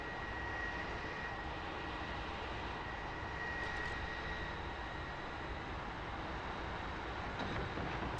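An F-4E Phantom II jet taxis in DCS. Its engines give a steady, even whine and roar throughout, with no talk.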